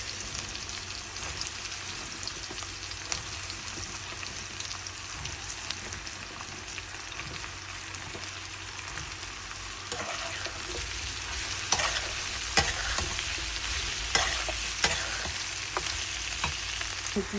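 Eggplant bhaji frying in a pan with onion, a steady close sizzle with repeated stirring scrapes and clicks that grow a little busier toward the end, no talk.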